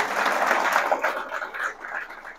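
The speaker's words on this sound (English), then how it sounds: "Big round of applause for bringing that." An audience at a political talk breaks into a round of applause, a steady wash of clapping that swells at first and then thins out slightly toward the end.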